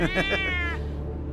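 A black cat in the video game Cat's Grace lets out a single close, clear meow that lasts under a second, then only quiet room tone follows.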